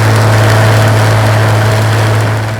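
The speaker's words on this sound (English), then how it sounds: "the wonderful Merlin engine. Just take a listen to that." A Rolls-Royce Merlin engine runs at a loud, steady drone with a strong low hum, close by and alone, fading slightly at the end.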